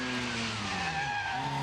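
A classic production saloon race car from the 1950–1967 class, likely a Mini, climbs the hill at Chateau Impney with a steady, loud engine drone and rising whine that holds throughout, with no talk.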